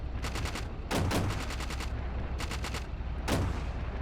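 Light machine gun in the Steel Beasts ProPE combat simulator firing repeated rapid bursts, several sharp volleys of shots separated by short pauses, steady and fairly loud over a constant rumbling battlefield background.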